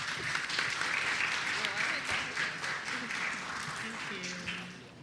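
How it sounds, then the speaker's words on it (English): An audience at an ethics bowl claps for the presenters in a sustained round of applause that tapers gradually, with faint voices underneath. "Let's give them a round of applause."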